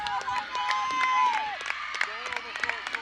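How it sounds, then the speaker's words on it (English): Softball fans at a Metamora sectional game clapping and cheering, a scattered patter of claps and whoops at middling distance while a commentator talks over them. "The fans are getting up, making some noise."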